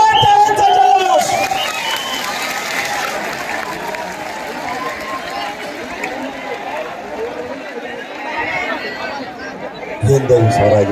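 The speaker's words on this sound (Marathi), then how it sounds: "एकदा जोरदार टाळ्यांचा जल्लोष" A large crowd roars and chatters at a public rally in Beed, with a loud swell of cheering and clapping at the start and again at the end, and a steady dense hubbub in between.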